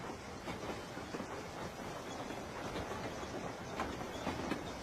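A steam-era passenger train rolls along rails in a Wild West setting, a steady low rumble with faint rhythmic clickety-clack of wheels, heard from inside the carriage at moderate distance.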